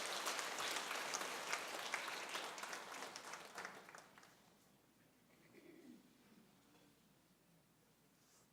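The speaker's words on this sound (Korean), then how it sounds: "크게 축하와 축복의 박수 바랍니다" Congregation at a Korean Presbyterian Sunday service applauding after an infant baptism; brisk clapping for about four seconds fades out, leaving a quiet room with faint background sounds.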